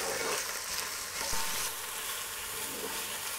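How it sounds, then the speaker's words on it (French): Onions, garlic and minced beef with sausage meat frying in a hot pan for a lasagne bolognese, stirred with a wooden spoon, giving a soft, continuous hiss and sizzle with faint stirring scrapes. "je vais venir mettre les oignons, l'ail et la viande. Et je fais chauffer avant."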